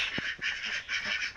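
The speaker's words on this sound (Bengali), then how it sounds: "হাঁসের পাল বানাচ্ছে" Ducks quack repeatedly at a village pond, a steady run of nasal calls close by with no talking.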